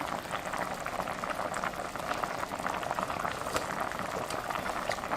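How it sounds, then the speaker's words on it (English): Chicken noodle soup boiling hard in a pot, a dense, continuous bubbling and gurgling, close and steady throughout with no voices. "we're bubbling away"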